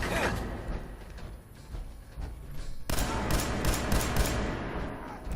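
Enemy boss unloading a minigun in Fallout 4, bursts of rapid gunfire and mechanical clatter swelling loud in the second half after quieter rumbling, with faint voice underneath.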